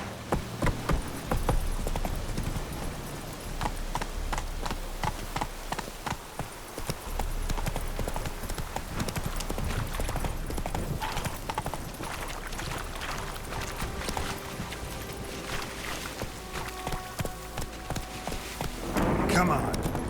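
A horse's hooves clip-clop steadily at a walking pace in The Witcher 3: Wild Hunt, close and continuous, with someone talking over the sound at times.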